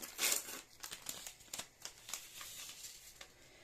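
A paper packet of vanilla sugar crinkles and tears open over whipped sour cream, a faint, close run of rustles and small crackles.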